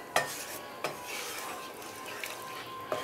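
A spoon scrapes through kadai paneer gravy as milk is stirred in, with a few sharp strokes against the pan over a soft sizzle.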